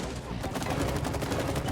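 Rapid game gunfire from the It Takes Two video game, a dense burst of repeated shots under excited talking throughout.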